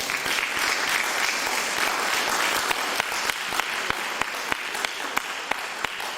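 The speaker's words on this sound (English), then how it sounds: "give your black selves a round of applause" An audience at a talk applauds together, a dense steady roar of many hands with a few sharper individual claps standing out near the end.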